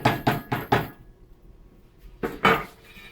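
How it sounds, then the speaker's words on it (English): Four quick, sharp taps in a row, a pause, then two more taps, each dull and solid like a soft hammer tapping a wheel bearing seal into place, close by. "with a softer hammer, just tap that in place"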